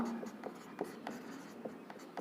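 Pen on paper or board scratches out quick strokes in a fast, irregular rhythm, soft and close, with a faint voice briefly underneath.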